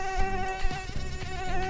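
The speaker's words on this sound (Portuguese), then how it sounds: "tô voando de drone!" Whiny, steady buzz of a drone flying in the Roblox game Brookhaven, an insect-like drone with a wavering pitch that fills the whole short stretch at close range, with no talking.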